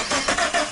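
A car engine starts in a short, loud burst of cranking and catching, lasting less than a second.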